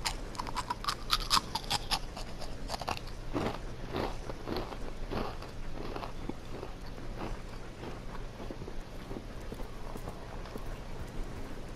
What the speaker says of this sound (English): Do you guys enjoy hearing me eat Cheetos? Not Cheetos, Cheez-Its.